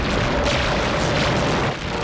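A blast from a special space cannon in a low-budget sci-fi film: a continuous, loud, broadband roaring boom that fills the whole clip and dips briefly near the end.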